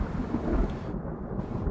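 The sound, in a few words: ground-shaking roll of thunder sound effect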